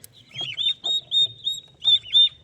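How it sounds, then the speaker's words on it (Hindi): Turkey chicks chirping, a series of bright high peeps in quick groups, close and fairly loud, with brief pauses between calls and no talk. "तो ये देखें टर्की चिक्स,"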